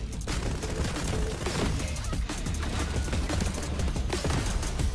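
Rapid gunfire bursts in a Fragpunk shooter game trailer, dense and loud throughout with sharp cracks layered over a heavy low rumble.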